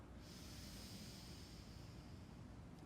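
A deep inhaled breath during a contemporary dance class warm-up, a steady airy rush that carries on evenly for about three seconds with a faint hiss and low rumble beneath, heard close and alone.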